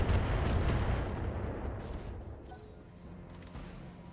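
Missile launches in a mech combat video game, a loud rumbling boom-and-roar burst that fades steadily over several seconds, with no talking over it.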